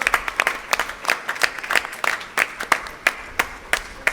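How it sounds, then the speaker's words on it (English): Audience applause at a Kudremukh Trophy 2024 prize distribution, heard as thin, sparse clapping from a small crowd, with uneven individual claps at a moderate distance. "Give a big round of applause."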